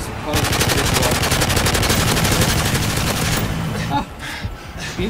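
Rapid automatic gunfire in a video game rattles loudly and continuously for several seconds, then cuts off into scattered quieter shots and clatter.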